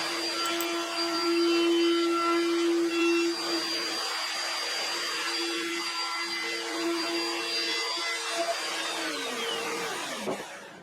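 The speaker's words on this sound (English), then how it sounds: "now the handholds that we just cut will get a 1/4 inch radius round over on all of the outside edges" Router putting a 1/4 inch radius roundover on the outside edges of cut handholds in a wooden pedalboard box, a steady high-pitched whine with cutting noise throughout that winds down at the end.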